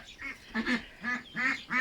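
Muscovy duck chasing other ducks, giving about five loud nasal honking quacks in an irregular run, close by with no voices.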